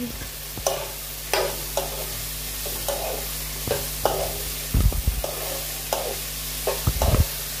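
Banana blossom and potatoes fry dry in a pan, a constant low sizzle under repeated close scrapes and clanks of a spatula stirring them, coming in irregular strokes about every second.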